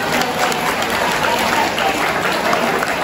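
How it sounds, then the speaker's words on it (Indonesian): An audience clapping together, dense steady applause close by and loud throughout, with no voices standing out. "Tepuk tangan untuk semuanya."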